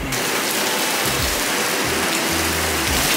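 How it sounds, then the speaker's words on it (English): Heavy rain pours down steadily in El Salvador, a dense, loud, continuous wash of drops close by with no voices over it. "So it's raining really hard."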